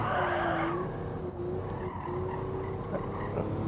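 Race car in Gran Turismo 7 on the Streets of Willow circuit braking hard at the start-finish line, tires skidding and squealing in a long sustained screech over steady engine noise, loud and close.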